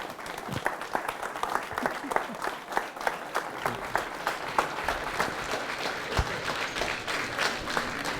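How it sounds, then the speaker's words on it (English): A crowd applauds steadily at a book signing with dense, sustained clapping that fills the room, a few louder claps standing out near the end. "Let's give Mr. Carl Ware a big round of applause."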